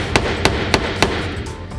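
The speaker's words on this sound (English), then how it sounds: "Need to hammer those bolts first" Four sharp metallic hammer strikes at roughly even intervals ring out up close against the bolts of a BMW E30 limited-slip differential during restoration, with a faint fifth tap at the end.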